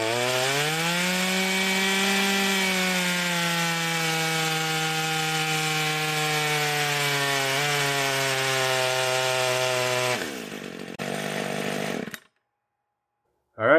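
A Husqvarna 540XP top-handle chainsaw cuts through wood with a loud, sustained buzzing whine that slowly shifts in pitch under load, then drops off, revs briefly and stops about twelve seconds in, with no talking.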